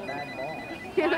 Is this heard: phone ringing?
yes